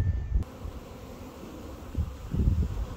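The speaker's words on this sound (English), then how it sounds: "all these bees over here are looking a little bit frantic" A steady, close buzzing of many bees humming together, continuous and fairly soft throughout.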